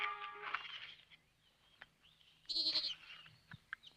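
A goat gives two bleats, one at the start and a louder one midway, close by against a quiet outdoor background.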